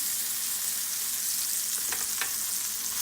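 Pork tenderloin sears in a hot pan with a steady, close sizzle and hiss that runs unbroken, with a couple of faint crackles near the end.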